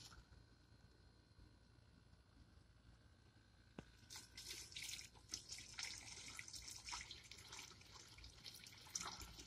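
Clean water runs into the tank of a Hart 20v battery sprayer, starting as faint trickling and turning into a steadier splashing pour with drips and patter after a few seconds, close by with no talk.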